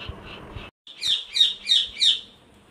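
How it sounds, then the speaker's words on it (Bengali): A pet bird screeches four times in a row, each call loud, shrill and close, following a brief stretch of low background noise and a short silence. "পাখিটা এত চেঁচাবে যে কী বলবো"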